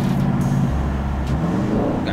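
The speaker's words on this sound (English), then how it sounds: "Even the exhaust kind of sound like a little bit different, man." A Dodge Challenger or Charger engine rumbles and revs briefly through its exhaust, a deep throaty tone close by, after a throttle relearn.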